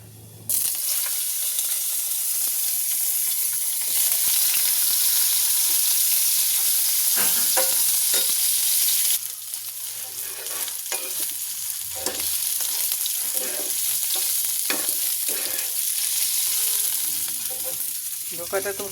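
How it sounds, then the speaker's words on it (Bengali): Boiled potatoes fry and are stirred in ghee in a pan with bay leaves, giving a continuous loud sizzle with scraping and clinking of a spatula throughout. "ধোকাটা তো ভাজাই আছে, আর এখানে আলুটা ভেজে নিলাম"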